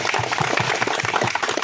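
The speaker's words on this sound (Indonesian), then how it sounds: "tepuk tangan dulu" Group applause from workers at an award ceremony for the best foremen, a short burst of rhythmic, fairly loud hand claps with a few louder beats.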